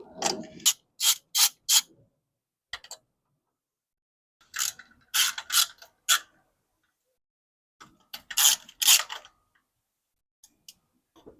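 A ratchet clicks in short bursts while carburetor nuts are loosened on a 1965 Ford Mustang with a 260 engine, three clusters of quick, close ticking separated by pauses.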